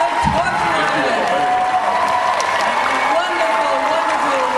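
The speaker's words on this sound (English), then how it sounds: "Give them a wonderful round of applause" Sustained audience applause for the Torchwood panel at Comic Con 2008, a loud, dense, steady clatter of clapping from a large hall crowd, with faint cheering mixed in throughout.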